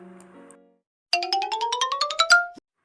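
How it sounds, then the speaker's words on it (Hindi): A phone rings with an incoming call in a Korean drama, a rapid rising electronic ringtone of repeated bright pulses after a brief low tone, fairly loud and alone with no talk. "तभी उसे सेक्रेटरी जैंग का फ़ोन आता है"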